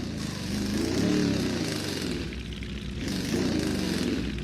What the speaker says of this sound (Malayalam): വണ്ടിയുടെ എൻജിൻ സൗണ്ട് കൊള്ളാം